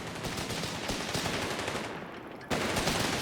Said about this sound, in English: got the MG-54 joining in